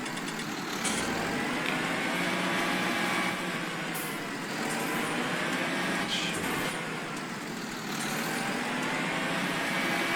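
A farm vehicle in Farming Simulator 19 rumbles along with a steady, loud engine drone and faint clunks and rattles at intervals, no talking over it.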